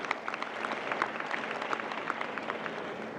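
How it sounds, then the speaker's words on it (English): A youth forum audience gives a hand of applause, with scattered, crisp claps blending into a moderate, continuous patter at a fairly even level. "A better hand of applause for Santo Singh."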